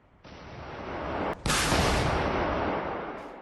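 Rockets and gunfire from aircraft in the Command: Modern Operations video game, on an air-to-ground attack pass: a loud, dense roar of sustained fire that starts abruptly, breaks sharply once, then swells again and carries on to the end.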